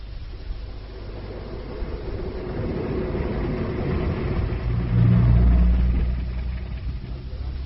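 A car drives along as a radio drama sound effect, giving a steady low engine rumble that swells to a louder, heavier stretch about two-thirds of the way through.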